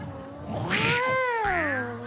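A person imitates a cat on a roof with one drawn-out, wavering yowl that rises and falls, close and fairly loud.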